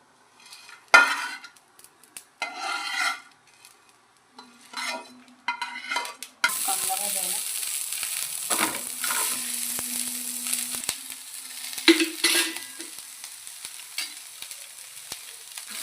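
Garlic being roasted in a pan for a mixed vegetable dish, with scattered spoon scrapes and clinks early on, then a steady loud sizzle of frying, joined by intermittent stirring scrapes; no one talks.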